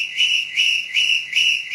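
People whistle at a Tamil political interviewee instead of answering questions, making a loud, steady high-pitched whistle that pulses in a regular rhythm about every 0.4 seconds, close by and with no talking.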